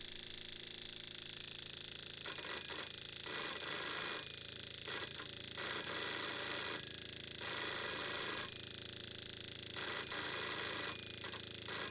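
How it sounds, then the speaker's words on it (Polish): Telephone bell rung by a homemade two-relay signal machine, ringing in repeated bursts of harsh metallic clatter with brief pauses, loud and close, no voices. "dzwonek według wyników tego eksperymentu okazuje się, że dzwoni"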